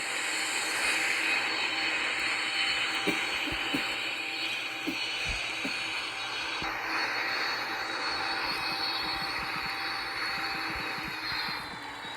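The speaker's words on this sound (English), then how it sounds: "We got a 727 taxiing to the runway." A Boeing 727 jet taxis in the Roblox video game, its engines giving a steady, droning whine with a broad rushing hiss, joined by scattered soft mechanical clicks; continuous and fairly loud, with no talking.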